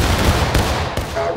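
A battalion musket volley in War of Rights, a thick, loud crackle of many shots merging into one continuous rolling burst with a couple of sharper reports inside it.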